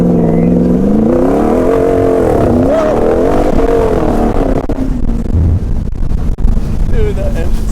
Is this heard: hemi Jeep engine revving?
yes